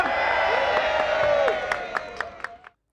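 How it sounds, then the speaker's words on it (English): An audience at a comedy and variety show cheers and whoops in a loud, sustained burst that fades into scattered claps before cutting to silence. "Give me a cheer, come on!"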